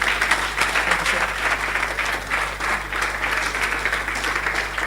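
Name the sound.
audience applause at a conference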